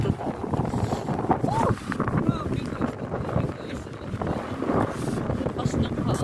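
Strong wind buffeting the microphone outdoors at minus ten degrees, a continuous rough roar with gusty swells, while a person talks over it.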